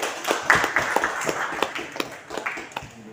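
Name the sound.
applause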